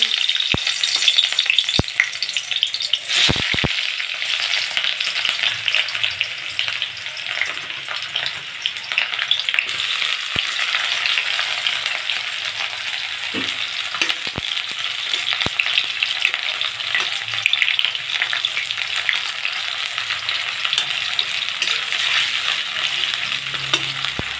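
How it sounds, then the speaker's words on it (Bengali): Chopped onions fry in hot oil in a kadai, a steady loud sizzle running throughout with a few brief clinks and scrapes early on, no voices. "কড়ার তেলটা গরম হয়ে গেছে প্রথমে আমি পেঁয়াজগুলো ভেজে নেব"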